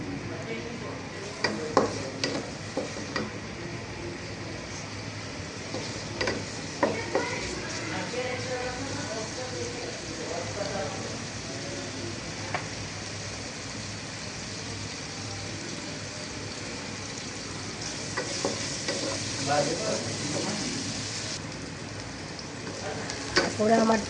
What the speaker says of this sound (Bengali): সেই মাছ ভাজার তেল দিয়ে এই যে তরকারি রান্না করতেছি।